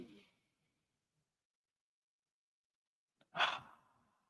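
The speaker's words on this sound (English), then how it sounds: "We're going to breathe in" One deep, audible breath released during a mindfulness breathing exercise, a close, airy sigh lasting under a second after a long stretch of silence.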